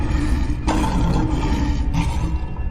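A cartoon sea creature lets out a loud, rumbling roar that holds steady for a few seconds, with two sharper surges partway through.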